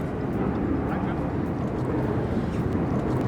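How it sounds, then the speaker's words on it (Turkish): An airplane flies overhead beside the North Rhine river at a caravan stop, heard as a steady, loud broadband rumble that holds evenly throughout without fading. "Uçak için ara verdim."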